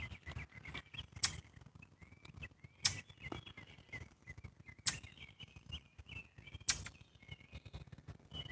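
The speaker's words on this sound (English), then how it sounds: "I hear the blue jays and the cardinals, lots of birds." Blue jays and cardinals call on an evening outdoors, giving faint chirps and short whistled notes, punctuated by a few sharper clicky bursts spaced a couple of seconds apart, with no talking.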